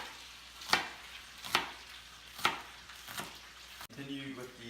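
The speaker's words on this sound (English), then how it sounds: "first I'm going to start to cut up some of these onions" Onions for buffalo sausage are cut with a knife, four sharp evenly spaced chops knocking on a board, followed by brief speech at the end.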